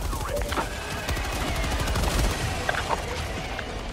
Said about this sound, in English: I love this machine gun.